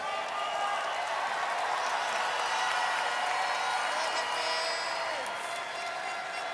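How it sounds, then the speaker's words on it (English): A pageant audience at the Miss Universe 2023 preliminary competition in El Salvador applauds the delegates with steady, sustained clapping and crowd noise, holding an even level for the whole stretch. "can we give a big round of applause to all the delegates for being a force for good?"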